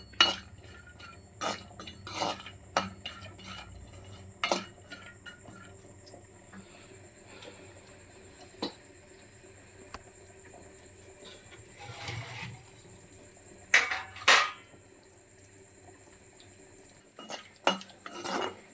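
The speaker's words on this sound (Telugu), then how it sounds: "కొంచెం నెయ్యి పోసుకున్నాను, తర్వాత జీడిపప్పు బాదం పప్పు ఫ్రై చేసుకుంటాను" Cashews and almonds fry in ghee in a pan for carrot halwa, a spoon stirring them with scattered metallic clinks and scrapes against the pan over a quiet background.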